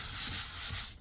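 Sandpaper rasps across a damaged desk top being prepared for respraying with PU enamel. The dry, close scratching comes in a quick run of steady strokes with no talking.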